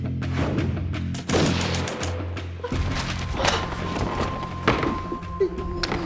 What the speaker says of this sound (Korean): 이거 총소리 아니에요?